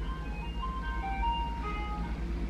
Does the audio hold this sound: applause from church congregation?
no